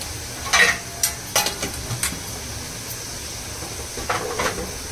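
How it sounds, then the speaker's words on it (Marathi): Kashmiri red chili powder gets stirred in a frying pan, a spoon scraping and clinking several times in quick bursts over a low, steady sizzle. "त्याला चांगलं हलवून घेऊया."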